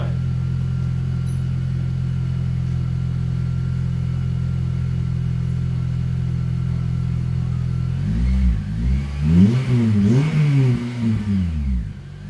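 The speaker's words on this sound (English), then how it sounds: "Give it a rev, mate." A Honda Civic Type R FN2 engine idles through a new Tegiwa exhaust with a steady low drone, then revs up several times in rising and falling surges, deep and loud up close.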